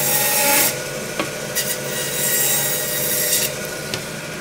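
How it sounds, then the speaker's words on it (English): A rack of lamb has its vertebrae cut off by a butcher, giving a steady loud rasping saw stroke with brief harder scrapes and no talk. "we have to cut the back of this vertebrae off"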